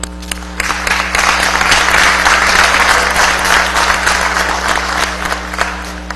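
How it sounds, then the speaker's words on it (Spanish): Sustained applause fills the chamber during a session of Venezuela's National Assembly, many hands clapping at once in a loud, continuous roar over a steady background hum. "Un abrazo y un aplauso para Henry Ventura"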